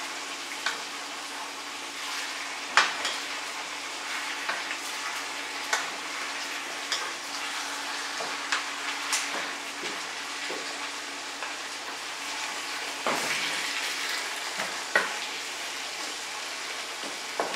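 Chicken yassa with mustard simmering in a pot, a soft steady sizzle and bubbling with occasional stirring knocks and scrapes, fairly quiet and close, no voices.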